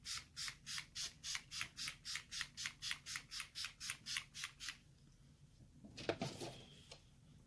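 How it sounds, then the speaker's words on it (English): A quick series of sharp, hissing bursts of setting spray onto a face in a steady rapid rhythm, about sixteen in a row, then a pause and one more burst. "I'm just going to spray my face real quick"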